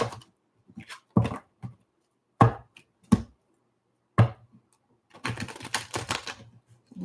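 Intermittent crisp riffling and tapping as tarot cards are shuffled close by, in short bursts with pauses, then a longer run of rapid flutters.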